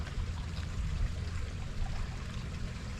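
Water is poured into a santol fruit preparation, making a soft, continuous trickle and stream, quiet and low, with no talk.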